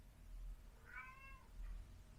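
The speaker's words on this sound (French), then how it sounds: "C'est mon chat." A single faint meow from a cat sounds once nearby, followed by a softer short trailing call, against a quiet room background.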